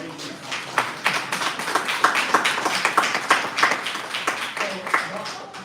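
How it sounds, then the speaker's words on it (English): An audience at an MLK Day event in Sioux Falls applauds with a dense wash of scattered hand claps that hold steady throughout, with voices mixed in. "So let's give him a round of applause for that."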